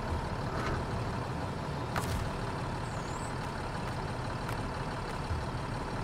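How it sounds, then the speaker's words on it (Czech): A heavy truck engine in the off-road driving game SnowRunner rumbles loud and steady throughout, with a few brief hissing bursts over the continuous low drone. "Zapni motor."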